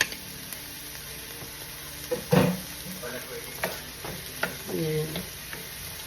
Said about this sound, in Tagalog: So, igigisa na natin yung bawang sibuyas.